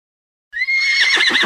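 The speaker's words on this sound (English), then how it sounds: "H is for horse." A horse neighs once, a loud, close, high whinny that starts abruptly after a short silence and shakes into a rapid quavering finish.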